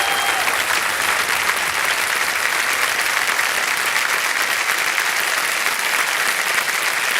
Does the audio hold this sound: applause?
yes